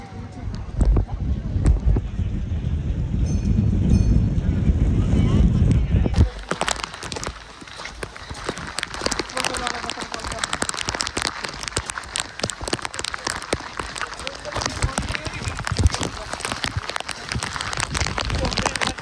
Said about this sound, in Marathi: कसला वारा पाऊस येतो.